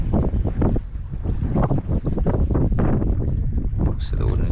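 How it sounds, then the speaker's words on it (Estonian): Gusty wind buffets the microphone on a boat while pike fishing, loud bursts of low rumbling noise, with talk mixed in. "Kus see tuul nüüd järsku tuli?"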